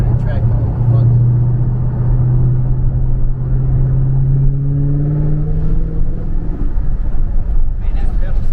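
Dodge Hellcat engine rumbles steadily with rising and falling tones as it revs in track mode, the supercharged drone continuous and close throughout.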